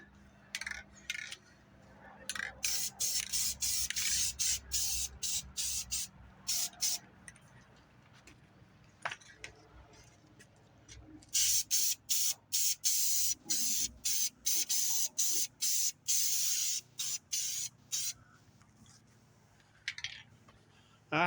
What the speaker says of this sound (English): they must have loved painting the inside of these covers